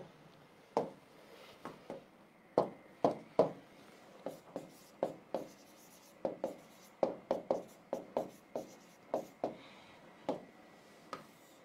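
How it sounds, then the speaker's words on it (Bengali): Pen or chalk handwriting during a chemistry lecture, a quiet series of short scratching strokes in an irregular rhythm, close and soft with pauses between words, no talking. "ক নাম্বার কোয়েশ্চেনটা আমি একটু লিখে দিই"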